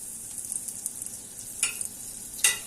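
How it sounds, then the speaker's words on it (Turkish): A tablespoon of butter melts in a frying pan on the stove ahead of an omelette, giving a steady faint sizzle with a couple of brief sharper crackles, no talk. "Arkadaşlar bir yemek kaşığı kadar tereyağı aldım. Bunu tavanın içinde eritiyorum."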